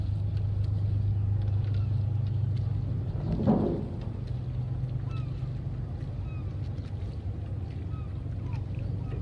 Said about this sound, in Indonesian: Ada suara burung. Alam lebih dominan daripada manusia mungkin. Mesin, suara mesin. Ada kapal yang merapat